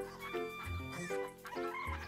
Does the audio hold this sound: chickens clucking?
yes